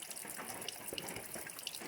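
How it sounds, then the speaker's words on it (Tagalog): Water poured into crushed chili in a bowl while making chili sauce, a soft continuous splashing trickle heard close up and fairly faint for about two seconds. "Lagyan ng tubig."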